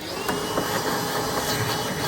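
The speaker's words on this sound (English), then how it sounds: "Gonna vacuum." A vacuum cleaner runs steadily inside an RV during sewer repair cleanup, with a loud, continuous whine and broadband roar, close by, with no talking.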